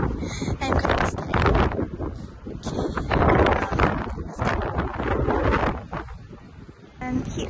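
Strong wind buffets the microphone high up near Helsinki Cathedral, a steady rushing roar throughout with voices talking underneath, then easing briefly near the end.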